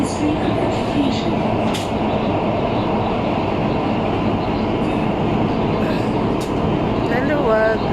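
Steady rumble and rattle inside a moving metro train car at Ministry of Education station, with a continuous rolling roar, brief squeaks and clicks, and people's voices faintly present throughout.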